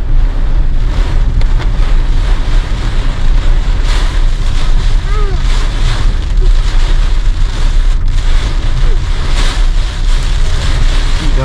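Torrential monsoon rain lashes down in Vagamon, Kerala, with strong gusting wind buffeting the microphone, a loud, dense, unbroken roar throughout.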